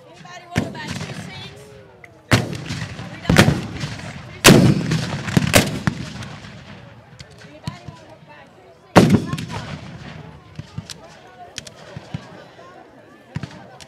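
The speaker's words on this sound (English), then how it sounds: "of Union cannon fire." Union cannons fire at a Civil War reenactment in Sacramento, Kentucky, several heavy booming blasts spaced a second or more apart, each rolling off into a long echo, with distant crowd noise between.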